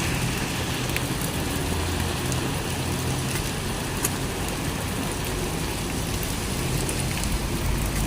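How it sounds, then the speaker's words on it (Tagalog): Heavy rain pours steadily near Sampaloc Falls, making a dense, constant hiss with scattered close drops hitting surfaces for the whole stretch, and a faint engine rumble underneath. "Ay, maulan. Grabe ng lakas."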